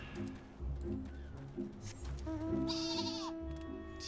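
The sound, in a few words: sheep bleating in Final Fantasy XIV video game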